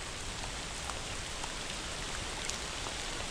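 Steady rain falls during a solo wilderness hike in cold, wet conditions, a dense even hiss of drops on surfaces that stays constant and close throughout, with no voices.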